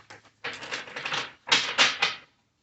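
Close, crisp riffling bursts of tarot cards being shuffled, a couple of short flicks then two longer runs, ending in silence.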